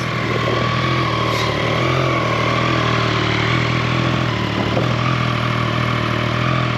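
A Triumph Trident 660 motorcycle engine idles steadily up close, a constant throaty rumble with a faint mechanical clatter and no voices.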